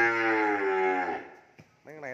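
At a cow farm, a cow lets out one long, loud, close moo that fades away, followed after a short pause by a second, shorter lowing call.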